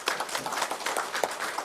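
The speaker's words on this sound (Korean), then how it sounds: "박수 한번 칩시다" Applause at a district office staff meeting, a short burst of scattered hand claps from a small group, moderately near, ragged and brief.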